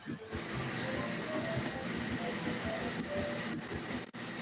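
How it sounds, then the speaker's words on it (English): Steam locomotive chuffing from the Just Trains variant in a train simulator game, a steady rolling rumble with faint repeated puffs and a brief dropout near the end. "And the chuffing sounds of them, the Just Trains variant"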